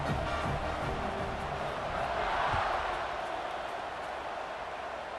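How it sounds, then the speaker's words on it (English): A stadium crowd in the video game College Football 26 roars steadily through a third-quarter kickoff, a dense and continuous wash of cheering that swells slightly midway and stays loud throughout. "this crowd is feeling themselves after that last drive"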